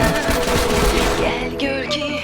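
Rapid bursts of automatic gunfire crackle through a video game roleplay shootout, dense and continuous for the whole stretch with a few sharper high pings near the end.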